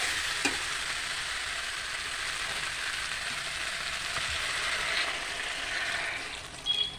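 Water poured into a hot pot of browned, sautéed meat sizzles and bubbles steadily for several seconds, a close, continuous frying hiss with brief stirring clatter near the end.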